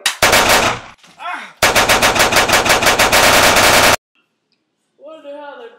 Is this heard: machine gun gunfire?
yes